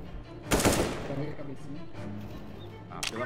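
Gunfire in the tactical shooter CS:GO during a competitive match: a loud burst of shots near the start and a brief crack near the end, set against steady game noise while players talk throughout.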